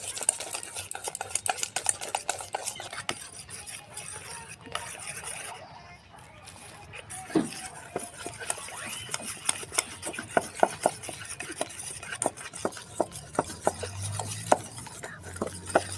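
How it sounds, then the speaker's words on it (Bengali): Ground kalai lentil paste beaten by hand without water, a rapid close rhythmic slapping and whisking against a bowl, steady throughout with faint voice at times. "কলাইটা বাটা হয়ে গেছে। এবার ওটা ফেটছি, কিন্তু একটু জল দেব না"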